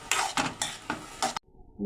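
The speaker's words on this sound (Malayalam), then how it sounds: "ഇതൊന്ന് ഇളക്കി കൊടുക്കാം തീ കുറച്ചിട്ട് വേണം ഇളക്കി കൊടുക്കാം" A spoon scrapes through a Kerala-style Turkish berry and chopped onion stir-fry in a pan over low heat, about five quick, close scraping strokes in a steady rhythm before stopping.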